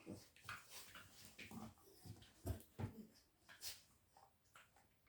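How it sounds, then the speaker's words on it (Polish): A small pet dog being brushed makes soft, close whimpers and little yips in short irregular bursts, fairly quiet, with no talking. "Przy tym trochę poznacie mojego pieska przy tym czeszeniu."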